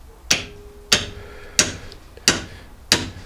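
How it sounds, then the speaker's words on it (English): A hammer strikes a stuck plunger from a Fiat engine, five sharp metallic blows at a steady, roughly half-second pace, close and loud with brief ringing after each hit. "Just gonna see if we can hammer it."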